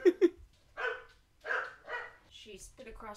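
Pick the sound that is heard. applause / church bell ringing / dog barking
dog barking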